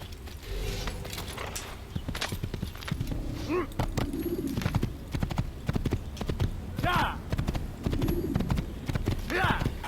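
Steady clip-clop of horse hooves trotting nearby in Assassin's Creed, in Damascus, with occasional bird calls and ambient outdoor noise in the background.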